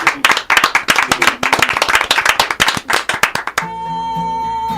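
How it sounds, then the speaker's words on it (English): Studio audience applauding in a TV music show studio, a dense burst of close claps for about three and a half seconds, then cutting off as a sustained musical tone takes over. "how about a round of applause for everybody for being here today?"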